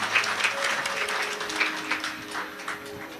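Audience applause welcoming the hosts at a Shiv Mahapuran religious discourse in Korba, Chhattisgarh, a steady crowd clapping throughout with some faint tonal sound underneath and no speech.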